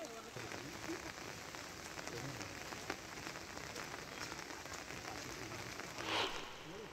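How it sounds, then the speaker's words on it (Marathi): Heavy monsoon rain pours steadily in Ratnagiri district along the Mumbai-Goa highway, a dense continuous hiss of drops on surfaces with scattered louder splashes throughout. "रत्नागिरी जिल्ह्यात सकाळपासूनच धुवाधार पावसाला सुरुवात झालेली आहे।"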